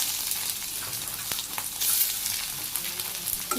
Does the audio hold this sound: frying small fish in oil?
yes